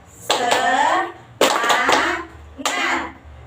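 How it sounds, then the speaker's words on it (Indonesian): A school class does a rhythmic spirit clap, three separate bursts of group clapping mixed with children's voices, each lasting about a second with short pauses between. "Nah, mari kita tepuk semangat dulu."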